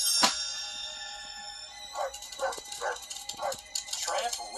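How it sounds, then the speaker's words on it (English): A dog barks as a sound effect in a read-along storybook: after a brief tonal chime, about six sharp, close barks follow in a quick, uneven series. "When Tramp heard Lady barking, he rushed back to her doghouse."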